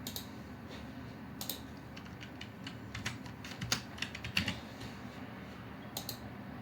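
Typing on a computer keyboard during an online university application: quiet, irregular bursts of close key clicks, some sharper taps clustered together, over a faint room hum with no talking.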